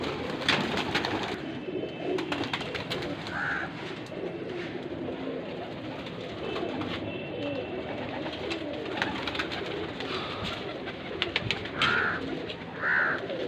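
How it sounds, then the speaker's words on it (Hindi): Pigeons coo softly in low, rolling calls that repeat over a rustling, noisy background. "वो सामने बैठी रंग लगी वाली कबूतरी है जी सामने"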